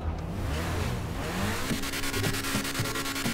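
A sports car engine in GTA 5 revs hard nearby, with a throaty rising roar and repeated surges of high, buzzy revving.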